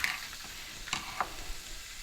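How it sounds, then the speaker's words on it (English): A soft, steady sizzle of onions frying in a pan for spaghetti sauce, with a few light scraping stirs. "Do you hear the sizzle? I love that."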